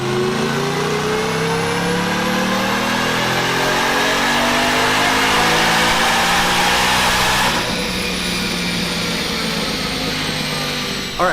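A 2018 Mustang fitted with a Whipple supercharger and a new pulley revs hard on a dyno, its engine note climbing steadily in pitch over a long pull before dropping off, loud and close with supercharger whine throughout.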